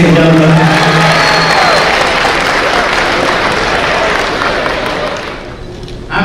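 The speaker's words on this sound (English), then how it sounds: "Let's give a big round of applause for them, ladies and gentlemen." Audience applause and cheering for guest speakers at an outdoor peace march rally, a loud, dense crowd clapping with scattered whoops that holds steady for several seconds, then thins and fades near the end.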